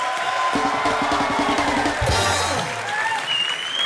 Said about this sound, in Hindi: अनुष्का और नील के लिए एक बार जोरदार तालियां हो जाए